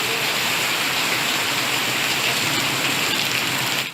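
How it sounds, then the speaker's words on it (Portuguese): A hailstorm batters down with heavy rain, a dense, loud, unbroken roar of pelting ice and water that continues without pause until it fades slightly at the very end. "a chuva de granizo caiu com muita força"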